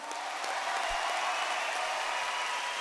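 Crowd at a professional basketball game (Ryukyu vs Alphas Tokyo) cheering and applauding, a dense steady roar of claps and voices filling the arena with no break.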